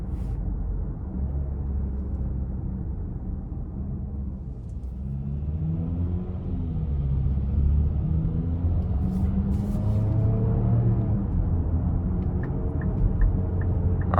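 A 2025 Nissan Murano SL pulls hard in sport mode onto an interstate, heard from inside the cabin as a low engine rumble and road noise that swells and climbs in pitch through the gears.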